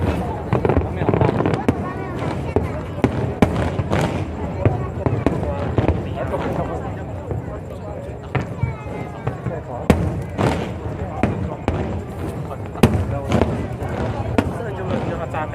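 National Day fireworks exploding over Kaohsiung, a dense continuous barrage of booms and crackles with sharp louder bursts throughout, as people chatter nearby under the noise.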